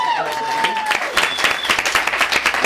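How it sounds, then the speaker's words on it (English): Comedy club audience breaking into applause, dense close clapping building after a brief voice at the start and continuing steadily. "Everybody give him a round of applause."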